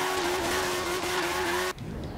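A racing car's engine in Forza Horizon 3 holds a loud, even high whine, then cuts off abruptly, leaving quieter road and game noise.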